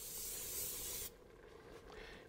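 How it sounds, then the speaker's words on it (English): Cooking spray hisses from a can into a hot pan in one loud continuous burst lasting about a second, then cuts off, leaving faint quiet hiss in a kitchen. "We're going to do the same pan spray."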